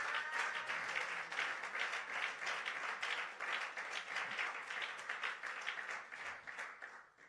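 Church congregation applauding at a French-language service, sustained dense clapping from many hands filling the room, steady for several seconds before tapering off at the end.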